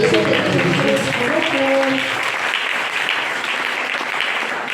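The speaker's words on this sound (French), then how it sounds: "Est-ce qu'on peut acclamer Jésus?" A church congregation applauds and cheers for Jesus during a Sunday worship service, a dense wash of clapping that starts with a voice and musical tones underneath, then carries on alone for several seconds.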